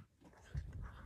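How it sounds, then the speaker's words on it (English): A kitten raised with dogs gives a short, husky bark-like yelp, close and fairly faint, lasting about half a second after a soft breathy lead-in. "When your kitten grew up with the dogs and she barks."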